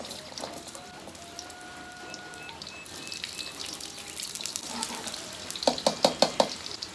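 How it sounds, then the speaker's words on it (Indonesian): Shallots and garlic fry in oil with a moderate, even sizzle, then a brief burst of knocks and clatter from stirring near the end, with no voices. "Minyakna cing rada seueur. Lebetkeun heula bawang beureum, bawang bodas."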